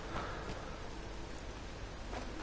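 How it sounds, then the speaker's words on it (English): Steady rain falls inside a ruined building with a bad roof in the Fallout 4 video game, a soft, even hiss of drops that stays constant and fairly quiet throughout. "I would like if it wasn't raining inside of the building."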